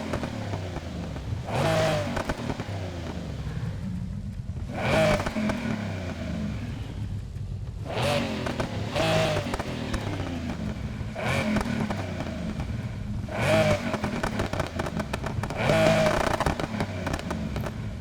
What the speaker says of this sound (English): That's a lot of pops.